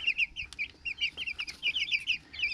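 Meat chickens cluck at a feeder in quick, repeated bursts, a busy flock chattering close by, with soft scratching and shuffling underneath and no talking.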